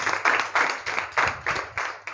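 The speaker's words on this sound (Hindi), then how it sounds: "ताली बजाओ हैं" Group of students clapping together in a class, a near, rhythmic series of about eight loud unison claps at an even pace, with no talking.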